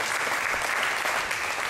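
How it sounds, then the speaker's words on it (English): Congregation at an IFGC Easter cantata clapping together in praise, a dense, steady burst of applause filling the room, loud and even throughout. "Let us give a clap of praise to the Lord."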